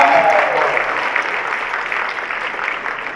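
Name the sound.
applause for fashion show performer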